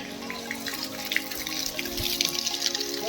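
A small water source on a mountain trek trickles and drips quietly and continuously, close by, among faint outdoor background noise with no talk.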